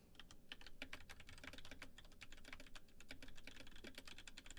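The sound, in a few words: typing on a computer keyboard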